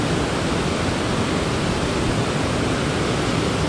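Waterfall below Center Hill Dam heard as a dense, unbroken rushing roar of falling water, loud and steady from start to end with no other sounds.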